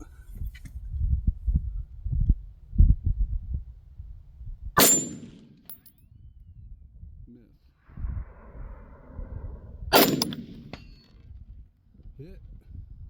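Two sharp metallic clangs from Mini 14 rifle shots hitting a steel target at 200 yards on a range ring out several seconds apart, each followed by a brief ringing decay, with low rumbling and a muffled voice in between.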